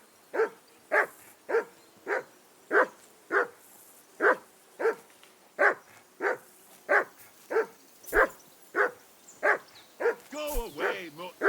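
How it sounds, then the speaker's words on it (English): Dog barking in the medieval role-playing game Kingdom Come: Deliverance 2, a long run of about eighteen evenly spaced, fairly close barks at a steady rhythm, ending in a few softer whimpering yips. "Go away, Mutt. You'll get nothing from me"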